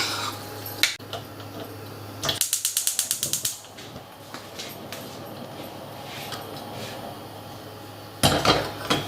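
Metal spoon scraping and clinking against a pot while coconut milk is stirred into Kerala-style jaggery rice pudding, bursts of rapid rattling clatter near the start and again at the end, with quieter stirring between.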